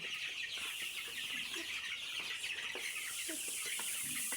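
Egyptian Fayoumi chickens cluck and chatter continuously on a poultry farm, a dense, moderately distant flock murmur with scattered individual calls over steady background noise.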